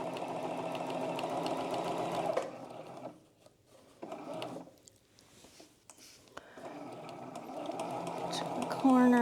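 A sewing machine stitches the lining of a cross-stitch Christmas stocking, a close, steady mechanical whir that stops and restarts in short runs with brief pauses between.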